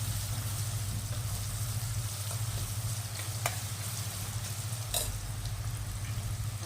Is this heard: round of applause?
no